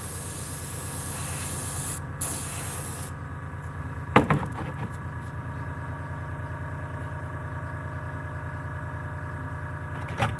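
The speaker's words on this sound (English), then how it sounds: "Yeah, I'm airbrushing." An airbrush spraying black paint over a fishing lure styled as a striped bass, a continuous close hiss with a low steady hum beneath it, briefly cutting out around two seconds, then a few sharp knocks before the spray settles again.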